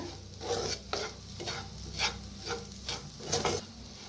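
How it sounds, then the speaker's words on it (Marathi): Spice masala roasting in oil in a pan, a close, steady sizzle broken by rhythmic stirring strokes every half second or so, with no talking. "मस्त बघा किती छान असा मसाला बनलाय आपला तेलात असंच एक मिनिटभर का नाही भाजून घ्यायचं"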